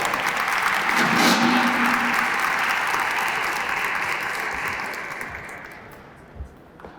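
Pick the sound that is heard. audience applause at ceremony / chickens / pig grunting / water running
audience applause at ceremony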